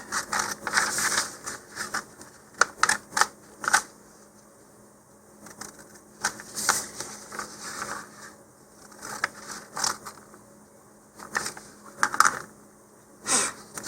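Paper parts for an Estes Sun-Sational model rocket are cut out by hand, giving close, crisp snips and crunches in irregular bursts separated by short quiet gaps.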